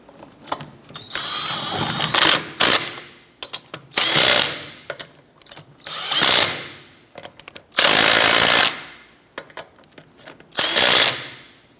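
An impact tool snugs down the lug nuts on an Acura TL wheel in a series of loud bursts of whirring and rattling, each followed by a short pause and faint clinks.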